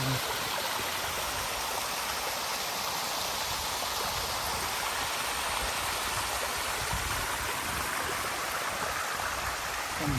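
The Tat Soi Woi waterfall at Phu Khao Khwai roars in a steady, dense wash of falling water, loud and unbroken throughout.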